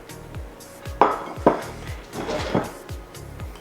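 Homemade ice cream mixture being moved from a dish into a freezer-safe pan, heard as a series of close clinks and knocks of utensil on cookware, irregular scraping taps over a few seconds with no talk.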